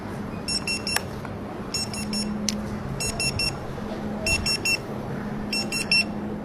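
Five short bursts of rapid high electronic beeps from a restaurant order pager at a food court, evenly spaced, over a steady low hum of a busy room.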